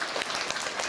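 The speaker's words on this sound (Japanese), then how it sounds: "彼に拍手を送ってるぜ。" Brief, fairly faint applause from an audience at the Turtle Talk show at Tokyo DisneySea, a soft continuous patter of many hands.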